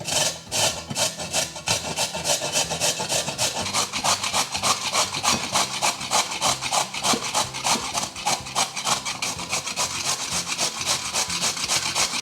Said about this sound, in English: we are going in with a good old-fashioned grater and we are going to use the thickest grate